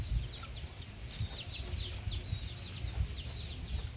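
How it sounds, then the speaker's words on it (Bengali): Jungle fowl kept among their chicks give rapid, high, repeated chirps and peeps that run steadily over faint low background noise. "কি সুন্দর সুন্দর বনমুরগি"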